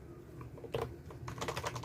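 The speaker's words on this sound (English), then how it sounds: "a mechanical keyboard is a high-performance keyboard with tactile and audio feedback." Keys clack on a mechanical keyboard with tactile feedback, a few quick clustered strokes close to the mic over a low steady hum.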